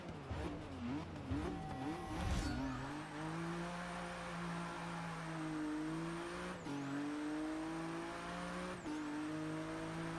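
A 2016 #66 Ford GT LM race car engine in Forza Motorsport 6 at Le Mans revs up from a rough launch into a sustained high-pitched whine, with a few quick gear-shift dips as it keeps accelerating, loud and close.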